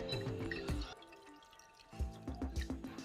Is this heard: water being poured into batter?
yes